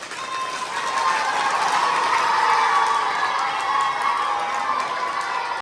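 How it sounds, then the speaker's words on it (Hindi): A school audience at a TB awareness event applauds and cheers for a team, a broad steady wash of clapping and crowd noise that swells within the first second and holds for several seconds without talk. "एक बार टीम के लिए तालियां।"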